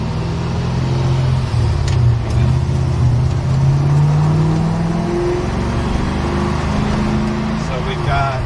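A supercharged Toyota 3UZ V8 in a Toyota Stout idles and revs with a deep, steady rumble through factory headers, 2 1/4 stainless pipe and an X pipe, loud and continuous for several seconds.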